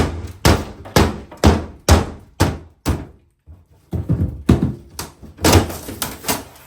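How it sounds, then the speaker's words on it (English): Heavy sledgehammer blows against a house wall during a farmhouse renovation, about a dozen loud, sharp thuds in an uneven rhythm with a short pause midway, close and alone with no talk. "Let's grab a sledgehammer."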